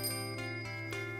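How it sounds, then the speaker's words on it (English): Bicycle bell ringing with a few faint metallic rings over a steady low hum, no voices. "let people walking know they are there, for example, by ringing their bell."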